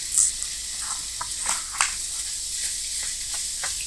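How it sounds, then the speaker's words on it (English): Mashed potato filling frying with onions and spices in a pan, a faint steady hiss broken by soft scattered stirring scrapes and small pops. "Let's fry it with the onions to incorporate all spices"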